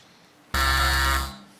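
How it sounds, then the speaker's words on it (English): A single loud electronic quiz-show buzzer on a TV panel show blares for under a second, harsh and steady, then fades out. "Fingers on buzzers for this one."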